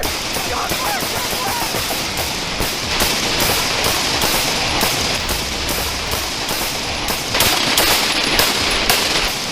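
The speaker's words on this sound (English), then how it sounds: "4 officers returned fire" Rapid gunfire as four police officers return fire in a shootout with an armed suspect, a dense volley of sharp repeated cracks and bursts over a steady noisy background, loud and close.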